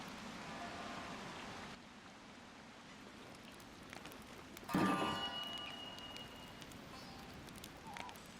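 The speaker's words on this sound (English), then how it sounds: "Damn this rain." Steady rain hisses through a scene in the video game Wild Hearts, a soft, even wash of falling water with a brief louder burst midway.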